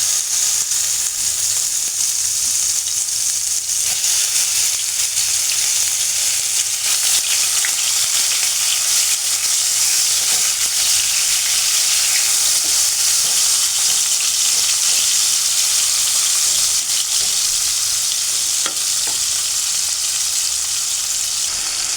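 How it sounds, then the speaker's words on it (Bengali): Shrimp seasoned with salt and turmeric frying in hot oil for a Bengali prawn dish, a loud, dense and continuous sizzle that holds steady throughout without any speech. "এখন এই চিংড়ি মাছটাকে একটু ভেজে নিব।"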